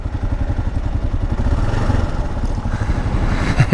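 A KLR motorcycle engine runs close by with a steady, loud, low throbbing pulse that rises slightly toward the end, with no talking over it.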